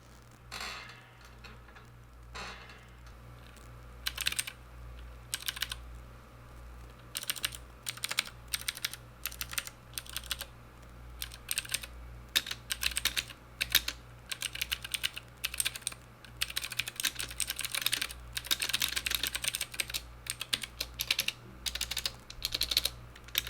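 Mechanical keyboard keys clack in quick bursts of typing, close and crisp, with short pauses between runs over a faint low hum.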